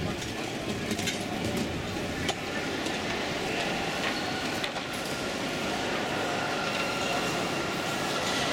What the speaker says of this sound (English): This is the entrance to the main train station.